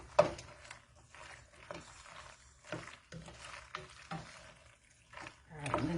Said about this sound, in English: I'm going to finish stirring this up